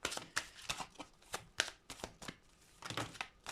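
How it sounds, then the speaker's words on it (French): Oracle cards shuffled and drawn by hand in a quiet room, a rapid series of soft papery riffles and slaps in uneven bursts, close and faint, with no talking. "Je vais tirer une autre carte avec celui-là pour finir."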